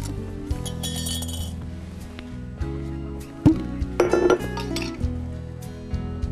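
A glass jar clinks and knocks in a kitchen as it is handled before olives are layered with lemon and hot pepper. The clear glassy taps come in a cluster midway, heard over steady background music.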